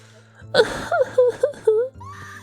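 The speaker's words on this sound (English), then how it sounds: "Now, I'm not going to do that shriek that she does there." A female character in Zelda Ocarina of Time 3D lets out a series of high, warbling wails and shrieks, about five rising and falling cries over a steady low game hum, loud and close.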